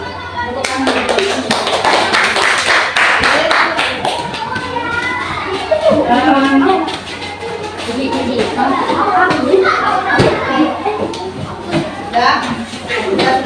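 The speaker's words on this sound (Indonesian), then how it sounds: "Tepuk tangan dulu" Children clap together in a classroom, bursts of loud, close hand claps that come in uneven waves, mixed with shuffling and children's chatter throughout.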